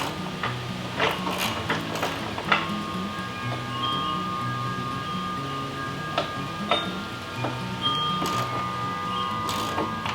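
13mm wrench working a bolt on a Power Pole Pro II shallow-water anchor mounted on a boat, giving faint, soft ratcheting clicks and small metal taps over a steady low background hum.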